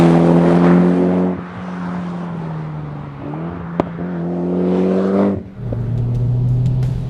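Tuned 2013 Mitsubishi Evo X accelerating on a road, engine note climbing steadily through the revs with a brief dip at a gear change and again near the end, loud and close throughout with no talk.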